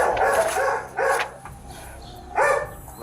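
Several dogs in a home bark in three loud, separate bursts, with a quieter stretch between them.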